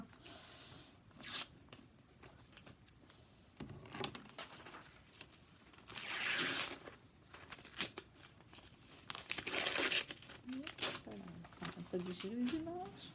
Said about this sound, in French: On va déchirer les images.